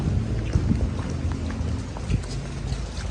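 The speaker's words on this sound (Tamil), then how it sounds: "செம மழை." Heavy rain pours down in a dense, steady hiss, with drops drumming on nearby surfaces and occasional louder thumps.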